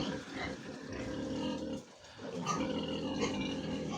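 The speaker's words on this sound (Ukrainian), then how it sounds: "Свиноматочка трішки сердиться. Так її болить, вона трошки нервується." Farrowing sow on a pig farm, in pain and a little agitated, giving repeated low grunts and rough vocal noises, with a short quiet gap in the middle before the grunting resumes close by.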